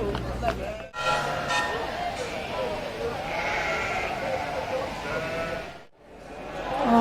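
Sheep bleat repeatedly amid the crowd noise of an agricultural show, with several animals calling at moderate distance while people talk nearby.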